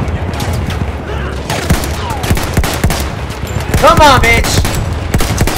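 Gunfire in the video game Battlefield 1, a dense fusillade of shots and bursts with sharp cracks, while a player shouts excitedly over it.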